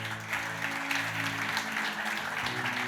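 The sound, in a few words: audience applause in church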